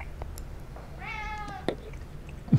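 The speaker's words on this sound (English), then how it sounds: "Cats can't have chocolate, Pumpkin." A cat gives a single clear, drawn-out meow at close range, followed by a couple of short knocks and thumps in a quiet room.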